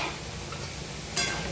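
Prawn and spinach curry (chingri palang sag) stirred in a pan, a steady close sizzle and bubbling with a brief scraping clatter near the end, no voices.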